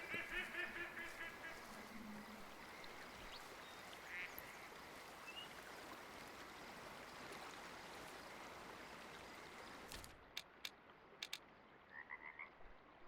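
Ducks quack faintly in a hunting video game's outdoor marsh, scattered calls over a steady low wash of water and ambient nature sound, with a few sharp clicks near the end.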